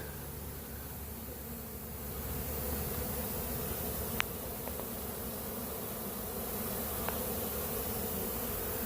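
Steady, dense buzzing of a large honeybee swarm throughout, fairly loud and continuous, with a couple of brief clicks and no talking.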